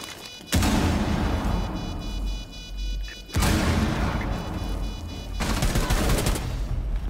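Super 90 shotgun firing in Rainbow Six Siege: loud, close bursts of gunfire in three dense, roaring volleys that each fill a couple of seconds, with booming low rumble, over continuous game noise.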